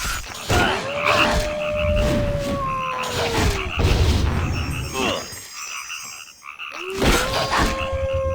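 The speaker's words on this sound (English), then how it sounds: "now we got the frogs to deal with here" Frog croaks in the video game EverQuest 2, several drawn-out, groaning calls that rise and fall, with a few overlapping at a moderate distance over a steady ambient game background.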